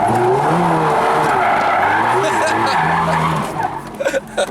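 A Lamborghini spinning out during autocross, with loud, sustained tire skidding and squeal under engine noise that fades to a few scraps at the end, with people talking over it.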